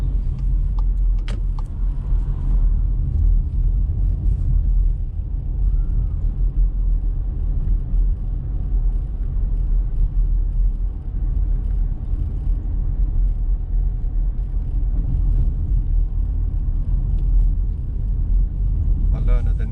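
A car driving along a road on a Tolworth driving test route, with a steady low engine and road rumble throughout, a brief jangle near the start, and someone talking over it.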